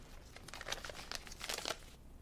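A sheet of paper crinkles and rustles as it is handled and passed across, a few close, soft crackles and crumples in a quiet room.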